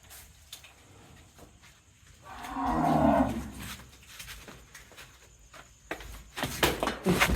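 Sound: bulls mooing

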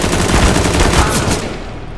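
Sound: gunfire in Counter-Strike (CS:GO) video game

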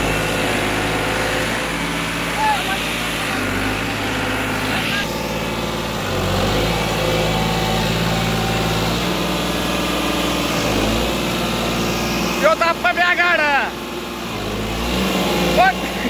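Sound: tractor engine straining while stuck in a paddy field

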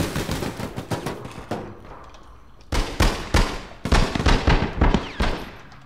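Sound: gunfire from the video game APB Reloaded

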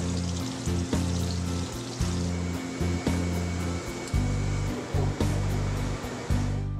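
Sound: flexo platemaking processor machine running

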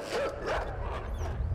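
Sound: dog barking in the video game Inside

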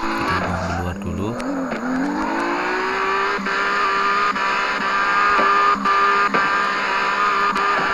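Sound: drifting car in video game CarX Drift Racing 2

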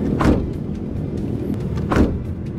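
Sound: Toyota Calya front door closing

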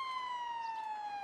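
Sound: police car siren in a video game

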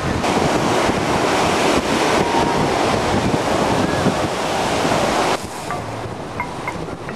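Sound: strong wind by the sea

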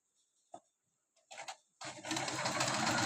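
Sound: Singer sewing machine stitching

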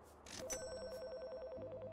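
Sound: telephone ringing in video game Priest Simulator

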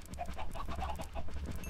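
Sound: chickens clucking in the video game Minecraft

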